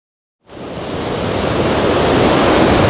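Ocean surf and wind roar at Tofo Beach in Mozambique, a broad steady wash of waves rising in from silence and holding loud and close.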